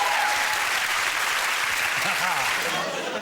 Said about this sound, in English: Give me OK. a round of applause